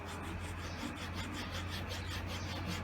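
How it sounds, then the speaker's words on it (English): Flat needle file rubbing along the edge of a PVC board to bevel it, a close, continuous rasping scrape with a faint back-and-forth rhythm and no talking. "You can use either this, a file, needle file, that is the flat needle file."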